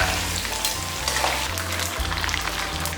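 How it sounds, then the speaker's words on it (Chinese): Floured bullfrog pieces deep-fry in plenty of hot oil over high heat, producing a dense, continuous close-up crackle and sizzle with a low steady hum beneath and no voices. "油烧热下牛蛙，开大火把它炸熟"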